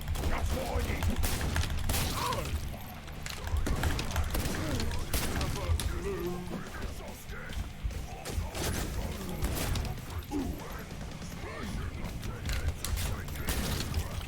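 Gunfire and clattering action in the video game Blood & Teef, with dense, rapid bursts of shots and mechanical clicks layered through the whole stretch.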